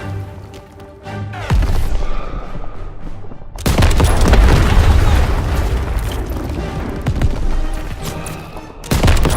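An ammunition depot blows up in the Call of Duty WWII game, loud booming blasts rolling into a sustained heavy roar, with a brief lull before a second burst and another hit at the end.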